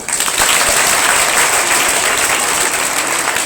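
Loud, dense applause from an audience at a school felicitation ceremony fills the space continuously without any speech.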